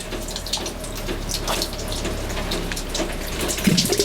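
Green coolant draining out of the header tank of a Detroit Diesel engine aboard a steel trawler, a steady trickling, splashing flow of liquid heard close up and continuously with no talking.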